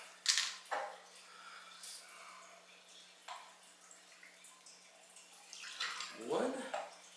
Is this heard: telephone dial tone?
no